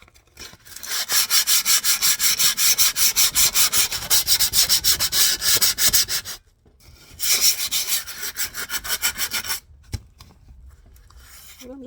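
Rust being scrubbed off an old shovel, loud rapid back-and-forth rasping strokes in several sustained bursts separated by short pauses.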